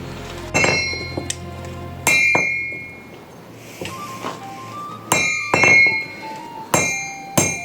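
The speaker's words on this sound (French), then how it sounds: "Là, je vais le faire avec le gros marteau." Hot metal is forged on an anvil with a very big hammer: a series of loud, ringing metallic clangs with bright sustained overtones, struck at an uneven pace with pauses between blows.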